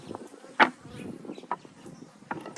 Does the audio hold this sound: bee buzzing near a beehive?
yes